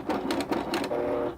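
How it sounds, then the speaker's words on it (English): Sewing machine stitching and back tacking a quilted placemat made from fabric strips, a quick burst of rapid mechanical clatter pulsing in short runs, close and fairly loud. "I'm going to sew and back tack."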